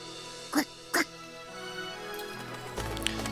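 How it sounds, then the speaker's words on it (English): A pet duck quacks twice in quick succession in a romantic visual novel game, short nasal calls standing out clearly over soft background music. "I forgot she has a pet duck"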